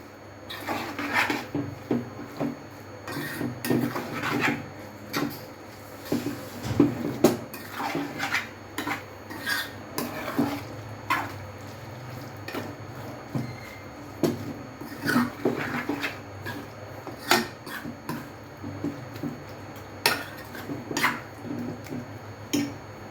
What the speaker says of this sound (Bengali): সব একটু মাখিয়ে নিচ্ছি।